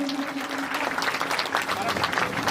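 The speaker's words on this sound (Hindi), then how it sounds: "जोरदार तालियों से अभिनंदन" Audience applause at a Guru Purnima worship gathering, a steady dense wash of clapping lasting a couple of seconds, with a faint hum and some voices underneath.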